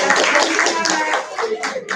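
School students at a legal outreach session clap together in a quick, busy burst, the applause loud and close and trailing off briefly near the end, with some speech mixed in.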